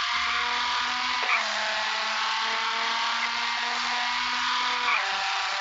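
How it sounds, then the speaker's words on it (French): A rally car in a racing video game drives with a steady mid-pitched engine drone that holds fairly level with slight shifts, heard alone at moderate volume. "Oh, le bruit qu'a fait cette voiture."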